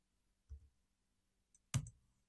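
Sparse computer keyboard taps at a desk, a soft keystroke followed after a pause by a sharper, louder click, quiet and close with silence between.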